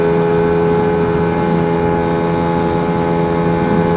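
Lambretta scooter fitted with a BGM Pro MZ30 exhaust, ridden at about 80 km/h and 5,000 revs, holds a steady, loud, close engine drone with a buzzy exhaust note that barely changes across the stretch.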